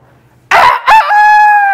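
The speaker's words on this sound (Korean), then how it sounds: "닭이 운 거예요" A rooster crows once, loud and close, its call rising through a rough opening before settling into a long sustained, slightly wavering tail that holds to the end, standing alone without voices.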